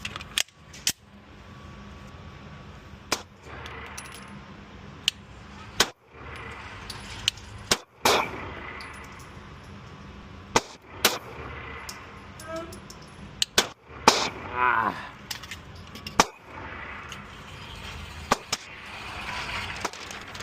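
Pistol shots from a Canik MC9LS at an indoor range, a series of sharp, spaced reports with other lanes' gunfire echoing faintly in between, recorded close at the shooter's position.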